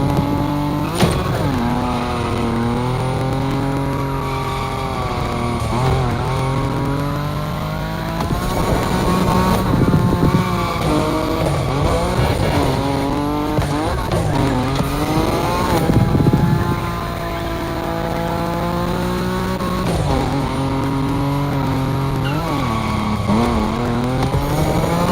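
A Nissan Nismo slides at high speed through a racing game, its engine whining and revving in rising and falling sweeps while the tires squeal, loud and continuous throughout.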